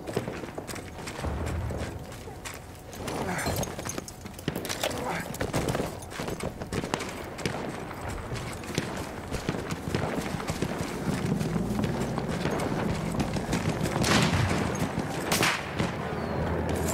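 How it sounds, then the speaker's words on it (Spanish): Horse galloping in the video game Battlefield 1, rapid hoofbeats with clip-clop rhythm amid scattered gunfire and mechanical battle noise, with someone speaking at times. "¿Un caballo?"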